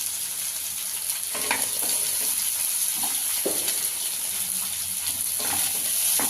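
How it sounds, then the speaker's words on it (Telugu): Sliced onions and green chillies fry in hot oil in a pan, a steady close sizzle with occasional soft scraping and stirring sounds throughout. "ఇది మంచిగా ఫ్రై అయిపోవాలి."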